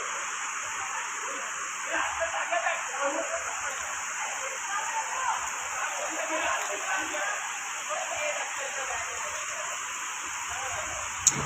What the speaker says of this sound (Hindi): देखो आ गई बारिश